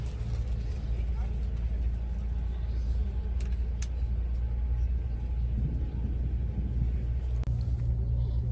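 Inside a moving bus travelling into Latvia during a storm, the engine gives a constant deep rumble, loud and even throughout, with a faint higher hum above it.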